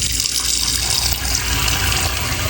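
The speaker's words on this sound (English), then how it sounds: "Now that the water's getting warm, we're gonna make a bath." Warm tap water pours steadily to fill a bath for washing a vintage doll, a loud, continuous splashing rush with no pauses and no voices.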